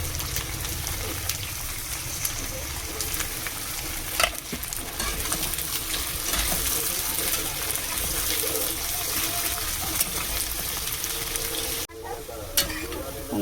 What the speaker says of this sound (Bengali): পেঁয়াজটা লাল লাল হয়ে ভাজা হয়ে গেছে